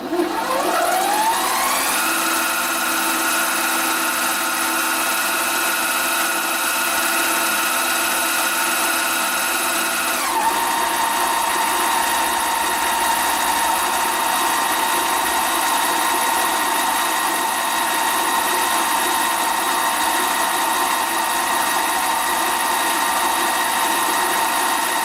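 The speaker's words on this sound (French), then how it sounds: "maintenant je vais percer" A drill bores into an antique gun nipple cleaning tool with a steady, whining motor hum that holds on for a long stretch, and its pitch drops partway through.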